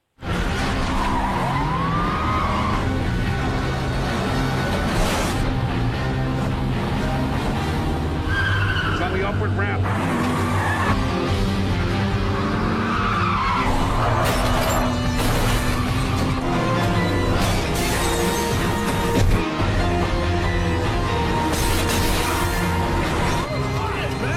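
A car chase in the film Stolen, with tires skidding and engines straining, heard under a musical score and occasional voices throughout.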